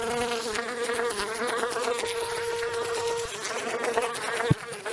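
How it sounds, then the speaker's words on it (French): A housefly buzzes in flight close by, a steady droning whine with a wavering pitch that holds for several seconds before a brief sharp knock near the end. "la mouche, quand elle vole, elle ne fait pas qu'une note monotone"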